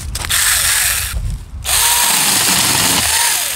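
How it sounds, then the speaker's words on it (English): A Saker mini chainsaw cuts through a small sapling, its loud, close motor whining steadily and briefly dropping off before revving back up as it bites into the wood. "it's testing day for the Saker Mini Chainsaw. First I'm going to be testing it out on some small saplings that I need to cut down"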